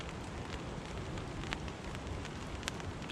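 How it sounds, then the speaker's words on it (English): Steady rain patters on a tarp over a solo wild camp in strong wind, a dense, constant hiss with occasional louder drops and no voices. "That's the rain kicking in again."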